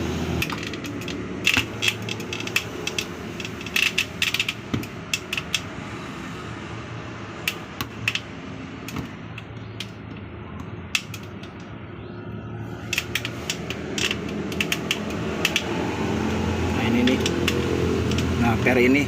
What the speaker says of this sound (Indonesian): Ntar saya congkel dulu, pakai obeng bisa untuk mencongkelnya.